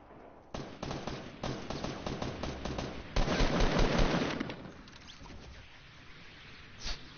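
Rapid bursts of gunfire and blasts from rockets firing and exploding in the Fortnite battle royale game, a dense crackling volley that swells into a loud roaring stretch before thinning to a lone later pop.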